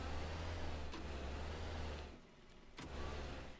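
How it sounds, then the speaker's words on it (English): A car drives in the video game Teardown with a loud, steady low engine drone and road rumble, which dips briefly before surging back, with no voices. "we're gonna hop in our car, get over to the job site, and get rolling"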